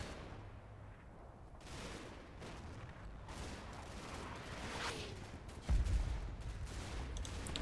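Rolling gunfire from a Combat Mission battle in the Normandy hedgerows, a steady fusillade of distant rifle and machine-gun shots with occasional artillery booms and one heavier thump near the end, no talk.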